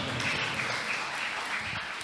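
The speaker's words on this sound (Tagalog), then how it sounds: "Palakpak para sa mahal na Panginoon" Applause for the Lord during a church preaching service: a steady wash of many hands clapping, even and sustained throughout, with no voices over it.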